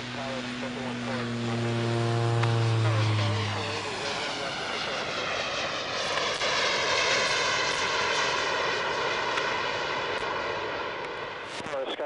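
NASA X-48C hybrid-wing-body test aircraft in flight, a loud steady engine drone with a falling tonal whine early on, continuing throughout.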